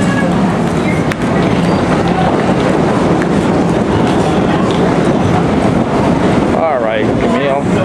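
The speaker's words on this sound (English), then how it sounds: "here comes the train." A train rolls past close by with a loud, continuous rumble and rhythmic clickety-clack of wagons, as a voice speaks briefly over the noise near the end.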